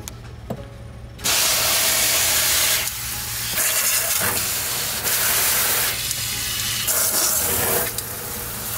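Running water from a tap pours and splashes steadily into a dedicated sink as excess dye is rinsed from hand-dyed yarn, loud and close, broken by a few short pauses and shifts in the flow.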